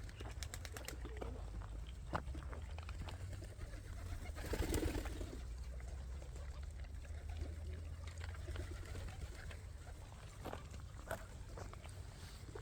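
Birds cooing and chirping at a distance at a street-dog feeding spot, over a low rumbling background, with scattered faint calls and occasional sharper chirps.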